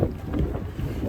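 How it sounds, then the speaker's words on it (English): Steady low rumbling wind buffeting the microphone outdoors at a spring swap meet in Carlisle, continuous and fairly loud throughout with no talking. "little windy out here today."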